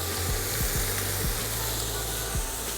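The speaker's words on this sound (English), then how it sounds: "Now just give it a good toss, and also get these onto your griddle pan." Steak and onions sizzle on a hot griddle pan, a steady close frying hiss with a few soft knocks as the food is tossed and moved around.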